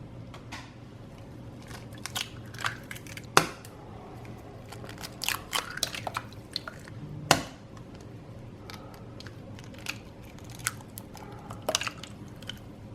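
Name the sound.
cracking three large eggs into a mixing bowl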